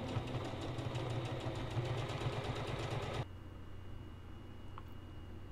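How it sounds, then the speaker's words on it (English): Sewing machine stitching fabric for a homemade filter face mask, a steady close mechanical whir with a fast needle rhythm that stops after about three seconds, leaving a low background hum. "stitch diagonally back and forth a few times, sew down the side"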